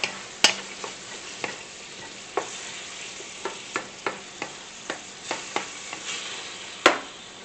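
Garlic being mixed into pasteles filling in a pan: a steady soft sizzle with a regular series of light spoon taps and scrapes, plus a couple of sharper clinks against the pan, heard close with no talk.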